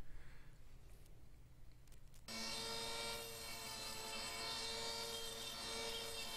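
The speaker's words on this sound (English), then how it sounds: "A little bit of finished sanding." Sanding a small mini cleaver knife blade with 3D metal etching: after a couple of quiet seconds, a loud, steady, continuous abrasive rasp starts and runs unbroken to the end.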